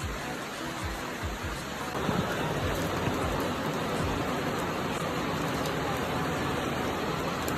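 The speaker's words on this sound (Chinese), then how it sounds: "怎么那么大雨还做嘞？" Heavy rain pours down steadily outdoors, a dense continuous wash of hiss and patter on surfaces, loud and unbroken throughout with faint low rumbles underneath.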